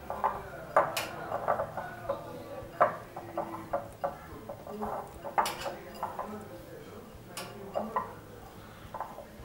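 Besan laddu mixture being stirred together with powdered sugar in a bowl, with repeated close clinks and taps of a spoon against the bowl in an irregular rhythm.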